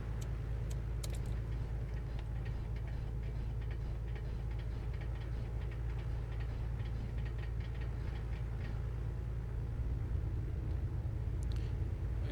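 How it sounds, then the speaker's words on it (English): Cockpit view of an A2A Aerostar 600 twin-engine aircraft in a flight simulator as an engine starts and spools up, a steady low rumbling drone with a fine ticking rattle on top, continuous and fairly close, no talking. "as she was starting the aircraft and it's spooling up"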